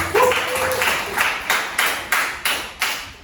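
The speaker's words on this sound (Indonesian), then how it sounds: "Sekali lagi beri tepuk tangan untuk kelompok 1." A small group of students claps in sharp, evenly spaced bursts during a classroom teaching practice, about seven crisp hits slowing slightly, nearby and fairly loud with no voices.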